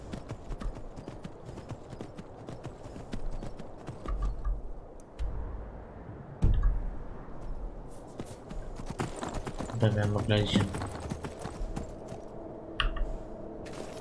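Horse hooves clip-clop steadily in Skyrim, a trotting rhythm of sharp game-engine footfalls with a brief whinny, while someone talks over the gameplay.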